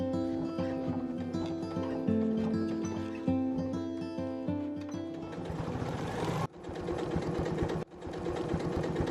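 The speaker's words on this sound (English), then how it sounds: "back stitch, sew and pivot all the way around" Sewing machine stitching a beach bag, a close, loud, rapid mechanical whir and clatter running continuously, speeding up toward the end with two brief pauses.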